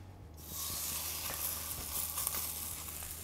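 Pork sizzles loudly as it sears in a smoking-hot pan, a steady crackling hiss with small pops, close up and without talk.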